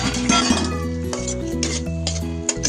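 Bilimbi pickle being stirred with jaggery syrup in a pot, close scraping and clinking of a spoon against the vessel in several uneven strokes, with no talking.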